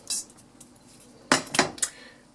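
A frying pan is handled on the stove with a few sharp metallic clanks and knocks, one early tap followed by a quick cluster of three louder clatters, close by and with no talking.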